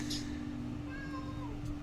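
A pet cat meowing once, short and fairly faint, at the start over a steady background hum.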